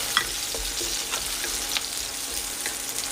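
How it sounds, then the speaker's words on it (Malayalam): Dried red chillies fry in hot oil with browned onion, giving a steady, close sizzle with faint stirring scrapes and small crackles running throughout, no voices. "അതിലേക്ക് വറ്റൽമുളക് ചേർക്കാം."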